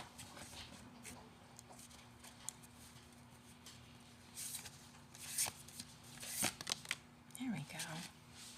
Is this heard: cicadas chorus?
no